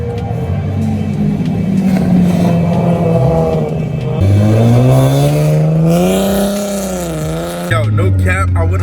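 Nissan G37/370Z fitted with a Stillen lightweight underdrive pulley, its engine revving loudly up through the gears on a test drive, pitch climbing and dropping at each shift, with voices talking over the engine noise inside the car.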